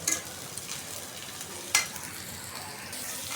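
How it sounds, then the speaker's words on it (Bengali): Black cumin seeds (kalonji) sizzle in a hot pan while being prepared for mashed potato, a steady crackling hiss with a sharp clatter of stirring midway, close and fairly loud. "কালি জিরা ভেজে নিতেছি এখন,"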